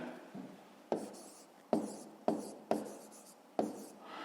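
A pen scratches and taps on paper while math homework for a fifth-grade exercise is written out, quiet short strokes with several sharp pen-down ticks at irregular intervals.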